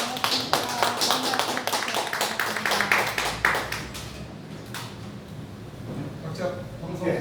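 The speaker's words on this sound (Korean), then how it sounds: "박수로 마치도록 하겠습니다." People clap at the close of a press conference in an office: a brisk round of hand claps that fades after a few seconds, followed by talking.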